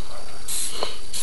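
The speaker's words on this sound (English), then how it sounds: "Some ingredients in the cake mix requires you to spray the pan" Cooking spray hissing from an aerosol can onto a cake pan for a birthday cake, a steady close spray lasting about a second, with no talking.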